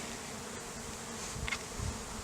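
Honeybees buzz around a hive while a bee smoker puffs cool smoke, a faint, steady hum with a couple of slightly louder passes near the end.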